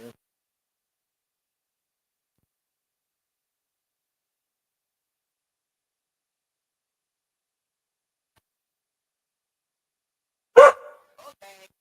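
Long near-silence ends in a single loud, close dog bark near the end, followed by a few faint small sounds.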